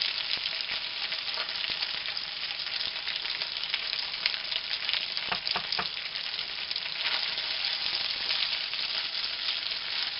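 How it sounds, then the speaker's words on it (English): Steady, close sizzling of gnocchi frying in a pan, a continuous crackling hiss with a few brief stirring scrapes partway through. "Oh, I love the sound of the sizzle."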